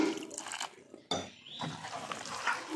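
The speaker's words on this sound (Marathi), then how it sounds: "आता यामध्ये मी थोडंसं पाणी ॲड करणार आहे।" A little water is added to rava uttappa batter made from semolina, giving a brief, close liquid splash and a sharp clink of a utensil against the bowl.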